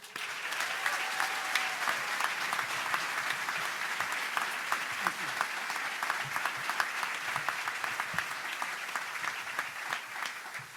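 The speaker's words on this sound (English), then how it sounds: "Please give a round of applause for our chancellor," Long, sustained applause from a crowd at an NC State men's basketball coach introduction, greeting the university chancellor; dense, even clapping fills the room steadily, with a few faint cheers and murmurs underneath.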